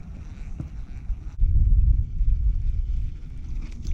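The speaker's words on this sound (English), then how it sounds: "It's so windy over here" Low, rumbling wind buffets the microphone on a lake while fishing from a boat, swelling suddenly and staying strong, with a faint watery wash underneath.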